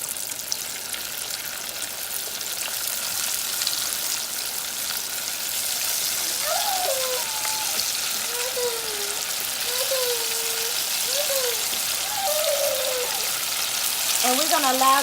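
Battered shrimp dropped into hot oil for a Southern fried shrimp po' boy, a steady loud bubbling sizzle throughout with faint chirping birds in the background.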